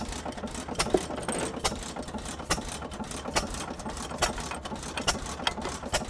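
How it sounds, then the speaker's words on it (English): An old stationary engine with an impulse coupling is cranked over at a fall farm show, giving a close, fast train of sharp mechanical knocks and clatter with an uneven, chugging rhythm over a low rumble. "I hold the intake valve open to get it started so it can roll."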